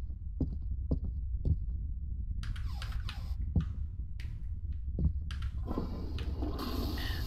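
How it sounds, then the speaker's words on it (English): A toilet flushing inside a horror exploration video game set in an abandoned house, a steady rushing water swell rising over a low hum and soft thumping, loudest in the last few seconds. "And you can flush."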